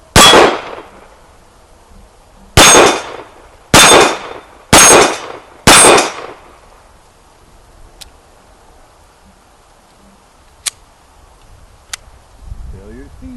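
A Beretta PX4 pistol fires five sharp, loud reports, one alone and then four in quicker succession, each with a short ringing decay, followed by quieter scattered ticks and faint rustling.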